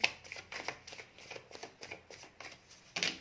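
Tarot cards being shuffled and drawn at a reading, a run of soft papery riffles and flicks in quick bursts with a louder shuffle near the end, close and alone with no talk.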